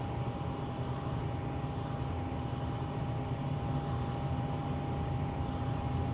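Steady, even roar of Learjet 35A jet engines at moderate power, heard from inside the cabin, with a constant high whine from onboard electronics running beneath it and no talking.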